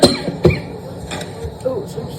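A person coughs twice near a gas stove in a home kitchen during cooking, two short sharp bursts close together at the start, with faint background noise after.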